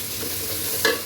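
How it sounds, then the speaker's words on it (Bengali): Minced onion is added to garlic frying in soybean oil and sizzles with a steady, close hiss. One brief clink stands out near the end, with no voices. "রসুনটা যখন হালকা বাদামি হয়ে আসছে তখন আমি এর মধ্যে দিয়ে দিচ্ছি পেঁয়াজের কিমা।"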